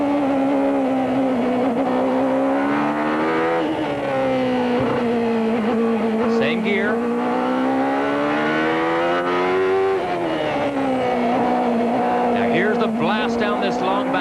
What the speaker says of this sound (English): Listen to his throttle.